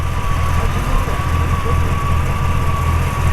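A 1940 Ford Deluxe Woody Wagon engine idles low at about 600 to 700 RPM, rumbling evenly and fairly close, with a faint whine riding above it and no voices.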